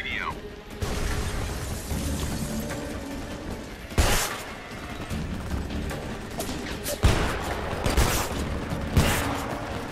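Shotgun blasts in the Homefront shooter game: sharp, loud booming shots at irregular intervals over a constant background of combat noise, with several heavy reports standing out.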